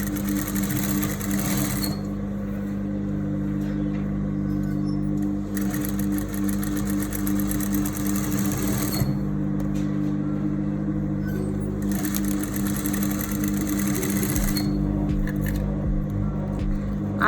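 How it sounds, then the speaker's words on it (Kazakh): Sewing machine stitching straight along a folded fabric seam, running as a steady loud mechanical whir with a low hum, pausing briefly and restarting several times across the stretch with no talk. "тура осының үстінен тігіп шығамыз"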